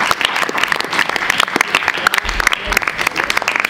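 Audience applause at a tribute event, a dense crowd clapping steadily and fairly loudly throughout, with sharp individual claps standing out from the wash.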